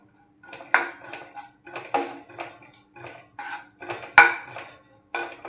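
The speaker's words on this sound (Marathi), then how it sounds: "ते आपण तुपात घालूया आणि छान याला परतवून घेऊया" Raisins, cashews and almond pieces stirred in hot ghee for mango sheera, heard as a series of close, moderate metallic scrapes and clinks of a spoon against the pan in an irregular rhythm, with no talk.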